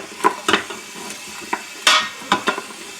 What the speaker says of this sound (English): The oil has warmed up. It's starting to do a bit of a saute.